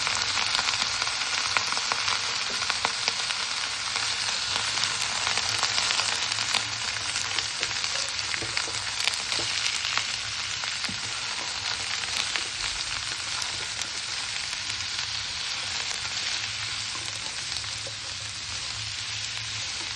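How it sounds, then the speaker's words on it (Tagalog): Sliced radish sautéing in a hot pan, a loud, dense and continuous sizzle heard close for the whole stretch with no voices. "Pero pag ginisa niyo siya, nawawala yung lasa niya"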